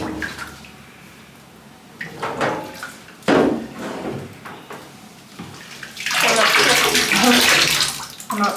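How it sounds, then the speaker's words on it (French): Shower water runs and splashes over hair during a wash after conditioner, intermittent at first with bursts and then a steady loud spray near the end, without speech. "C'est une douche de cheveux."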